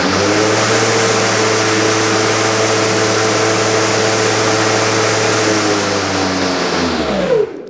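Loud, steady electric drone of a Milwaukee M18 Fuel 21-inch self-propelled cordless lawn mower running close by, holding an even pitch before winding down abruptly near the end.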